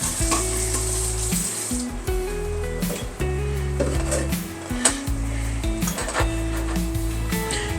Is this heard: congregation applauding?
no